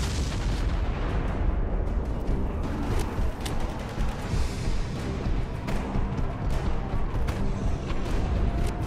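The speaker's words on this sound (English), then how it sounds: "No freaking rocket launchers." Constant heavy booms and rumbling blasts from rocket launcher fire and explosions in the action game Prototype 2, a dense loud barrage with sharp cracks layered over a continuous low roar.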